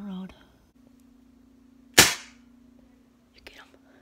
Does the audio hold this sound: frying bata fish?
no